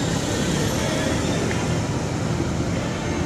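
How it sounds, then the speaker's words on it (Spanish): A police helicopter patrols overhead at 2 a.m. in Siloé, Cali, Colombia, producing a steady, loud, broadband rotor and engine roar that holds constant without pause. "Nuevo helicóptero de la policía patrullando en las 2 de la noche en Siloé,"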